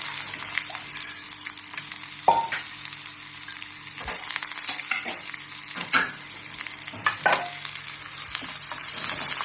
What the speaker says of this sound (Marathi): कांदा चांगला भाजू द्यायचा.